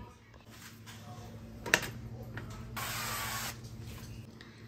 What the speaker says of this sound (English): I got a nonstick pan here that I'm gonna spray with avocado oil